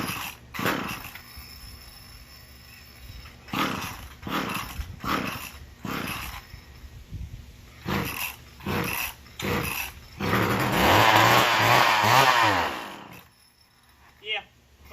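A McCulloch Power Mac 6 chainsaw engine, needing a carburetor rebuild, runs briefly on prime, revving with a rough, wavering buzz for a few seconds. Before it catches there are short bursts of people talking and other handling noises.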